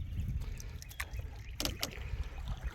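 Canoe paddling on open water at a national wildlife refuge in steady wind, with low rumbling wind noise throughout and a few brief splashy paddle strokes standing out near the middle.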